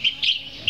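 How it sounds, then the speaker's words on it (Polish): Birds singing: short, high chirps come in quick bursts, clear and fairly close, with brief gaps between the calls. "Podobnie jak te ptaki."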